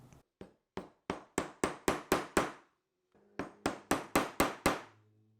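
A chisel struck with a mallet cuts a recess in wood for a bowtie inlay, two bursts of sharp, evenly paced knocks that rise in force, close and alone.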